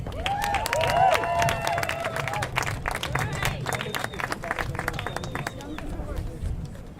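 A rally crowd at a January 6 Day of Remembrance event breaks into sustained applause with scattered cheers and babble, a steady dense wash of clapping that stays fairly far off and holds throughout.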